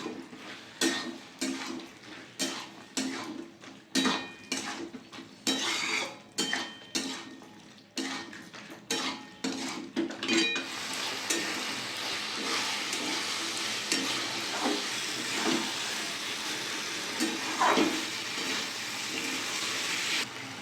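Bottle gourd curry with rice flour and sugar being stirred in a pan, a spoon scraping and clinking against the metal in a quick repeated rhythm, then settling into a steady bubbling simmer, close up with no talking.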